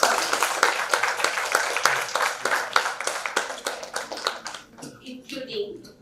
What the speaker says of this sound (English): So a big round of applause for both of you.